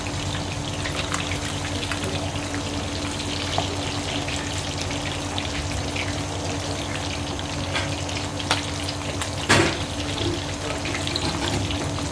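Fish pieces frying in hot oil in a home kitchen for a Lahori masala fish fry, a steady dense sizzle running the whole time with a brief clatter near the end, no voices.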